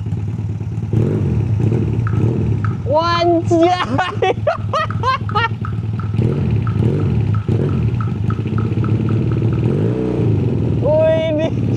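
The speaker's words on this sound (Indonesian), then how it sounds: "Motor Matic 2 silinder." A custom two-cylinder Honda Spacy 220cc automatic scooter runs with a loud, steady low engine drone throughout, with clattering and rising revs as several people talk and exclaim over it.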